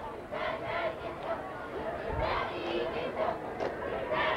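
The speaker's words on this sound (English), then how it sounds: "Pretty good crowd on hand tonight for tonight's game." A crowd in the stands at a 2000 high school football game between Bettendorf and Davenport Central in Iowa makes a faint, distant roar of cheering and chatter. A voice speaks over it at times.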